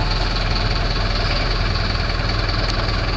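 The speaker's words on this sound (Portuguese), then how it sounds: "Eu vou dar a partida no motor." A Marcopolo Torino bus diesel engine runs at a steady idle, a loud, continuous low rumble with a slight vibrating knock that holds throughout with no talk.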